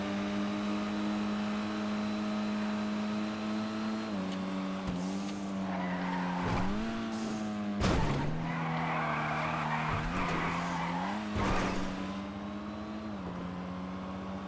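A front-wheel-drive car in GTA V drones with a steady engine hum, its pitch dipping on gear changes, while tires squeal and skid in several loud bursts; no talking.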